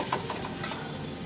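Onions fry in a pan over a medium flame for cluster bean stir-fry, a brief soft steady sizzle with a couple of faint spatters.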